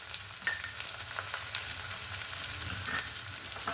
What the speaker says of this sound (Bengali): ভালো করে মশলাটাকে কষতে কষতে ভালো করে কষে নেব